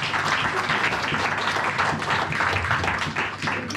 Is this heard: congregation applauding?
yes